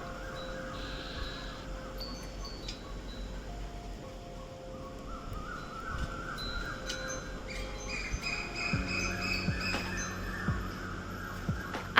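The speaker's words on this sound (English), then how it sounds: "I have no idea what these birds are doing up at this hour." Several birds chirp and call at midnight over a dim background hiss, with scattered tweets and a few short whistled phrases that grow busier and louder toward the end.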